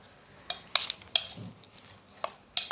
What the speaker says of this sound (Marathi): आता हे सर्व मिक्स करून झाले चाट मसाला टाकून मिक्स करूया